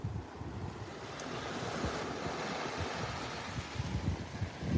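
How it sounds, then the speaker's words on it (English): Ocean waves roll onto a beach in a steady, full-bodied surf wash with rumbling low churn and gusts of wind buffeting the microphone, rising slightly toward the end with no voices. "we got some wave action too"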